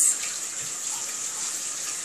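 Tap water runs steadily into a sink while hands are rinsed, giving a close, continuous hissing splash.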